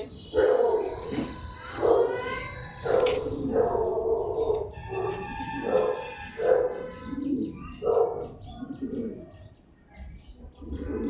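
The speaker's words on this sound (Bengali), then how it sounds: "এগুলো শৌখিন এগুলো ফ্লাইং পায়রা" Fancy flying pigeons of the kagzi chotial breed coo in a steady series of soft, throaty, repeated phrases, close by, with occasional chirps and no talk.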